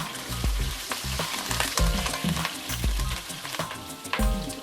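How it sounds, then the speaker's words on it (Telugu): Slit green chillies and cumin seeds fry in hot oil for a savoury snack, giving a loud, close, continuous sizzle broken by spatters and the scrape of stirring, with no voices. "జీలకర్ర వేగిన తర్వాత పొడవుగా ముక్కలుగా కోసుకున్న పచ్చిమిర్చిని వేసి వేయించాలి."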